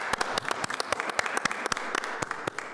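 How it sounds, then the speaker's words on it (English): Scattered applause from a small audience at a city council meeting in Bloomington, sharp irregular claps from a few hands for under three seconds, moderately loud in a room with no talking. "I think what Councilmember Scambler just did deserves a round of applause."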